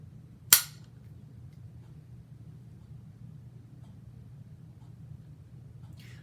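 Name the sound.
rifle being fired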